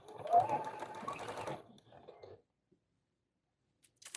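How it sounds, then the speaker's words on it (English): Sewing machine running a short burst of stitching along a flannel baby blanket edge, a rapid mechanical whir lasting about a second and a half, then a brief slower run and quiet clicks. "sew down this last edge"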